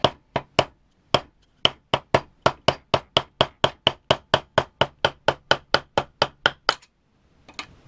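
A run of sharp, ringing hammer blows on metal while checking two-stroke engine timing, about two dozen struck in a fast steady rhythm, loud and close, then a brief pause and faint clatter.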